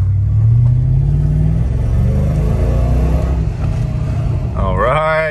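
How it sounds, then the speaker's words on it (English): A car engine after a coil pack replacement to cure a misfire, running smoothly on the road with a loud, steady low rumble that rises slightly as it pulls, heard from inside the cabin. "let's go for a drive and see if the misfire is gone"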